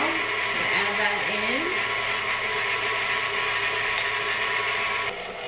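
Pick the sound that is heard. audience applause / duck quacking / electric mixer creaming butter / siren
electric mixer creaming butter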